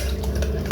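Food being stirred in a pot with tomatoes, lime and salted fish paste (ginamos), a brief continuous scraping stir with a slightly sharper clink near the end, close and steady, no talk.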